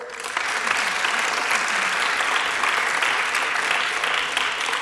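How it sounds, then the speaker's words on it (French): An audience applauds Elisabeth and Élise at a verbal jousting final, with a steady, loud wash of many hands clapping that begins abruptly and holds evenly throughout. "vous pouvez applaudir Elisabeth et Élise"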